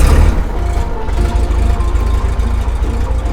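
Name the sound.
Bearhawk airplane engine starting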